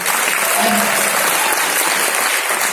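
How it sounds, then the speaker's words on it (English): Audience applause at a wellness event, steady dense clapping that fills the room at an even loudness from start to finish, with no voices on top. "Round of applause."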